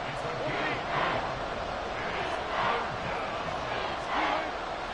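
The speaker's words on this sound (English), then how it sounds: "The Arrowhead crowd in full roar." Stadium crowd at Arrowhead roaring in an American football video game, a loud continuous wash of cheering that swells in rhythmic surges about every one and a half seconds.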